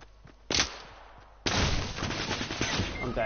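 Submachine gun fire in Fortnite comes as a short burst, then a sustained rattling volley of rapid shots, loud and close.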